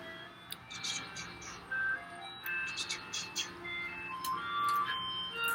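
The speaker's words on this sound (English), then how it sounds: "The ice cream truck is here." An ice cream truck creeps slowly past, its faint chiming tune carrying from outside over quiet room noise, with a person speaking softly in the middle.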